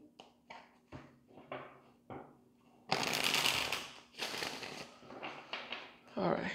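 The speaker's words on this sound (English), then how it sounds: "One more shuffle." Repeated riffling and slapping of a tarot card deck, with short shuffles building to longer, louder bursts, close and alone.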